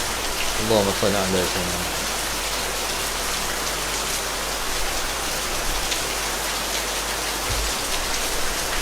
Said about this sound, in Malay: tak apa, kena titik hujan tu